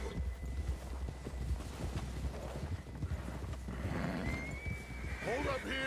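Horse in Red Dead Redemption 2 galloping near a lake, steady clip-clop hoofbeats under game music and ambience, ending in a loud whinnying neigh; a voice talks briefly.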